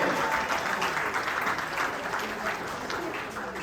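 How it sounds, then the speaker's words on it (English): A banquet audience at the AVCA All-America awards claps for the award recipients, a sustained wash of applause from a large room, steady and even throughout. "let's have one round of applause for all of our final award recipients"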